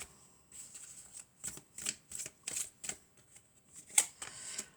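Oracle cards shuffled by hand during a card reading, a close, soft riffling and flicking in irregular bursts with brief pauses, alone without talk.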